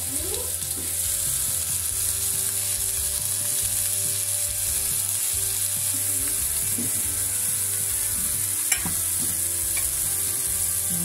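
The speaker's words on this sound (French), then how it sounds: "Poêle bien chaude, l'huile d'olive. Bien les étaler." Shrimp searing in a very hot pan of olive oil, a loud continuous sizzle with occasional scraping stirs and a brief sharp clink near the end, close by and without talk.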